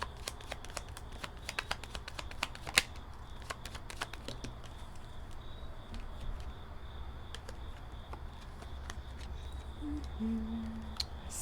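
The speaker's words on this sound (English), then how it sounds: "So I'm just pulling some Lenormand now." Lenormand cards are shuffled and pulled for a tarot reading, with rapid crisp flicks and snaps of card stock scattered over several seconds, close but quiet, over a low steady hum.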